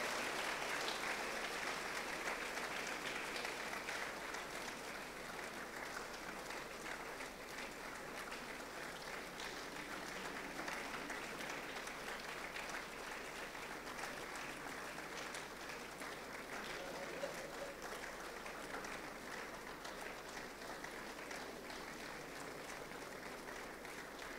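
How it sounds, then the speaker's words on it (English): A crowd at a school's 50th anniversary celebration claps steadily and densely for a long stretch, the applause holding at an even level from start to finish, with no voices rising above it. "Please, let's keep on clapping for them."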